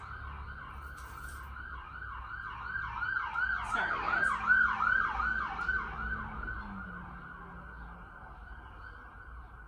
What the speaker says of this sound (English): Lots of sirens today.